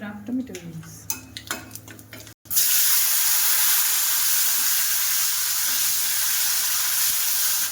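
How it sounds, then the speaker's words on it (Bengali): Chopped tomato tipped into hot oil already crackling with mustard seeds, panch phoron and dried chilli for a sour fish curry, bursting into a loud, steady sizzle after a brief clatter of utensils. "চলো এবার দিয়ে দেবো বানিয়ে রাখা টমেটো।"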